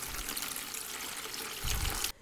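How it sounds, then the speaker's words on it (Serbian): Cold water pours steadily from a tap into a large bowl, a continuous close rushing splash that deepens near the end before stopping abruptly. "U jednu veću posudu sipat ću 4 litre hladne vode."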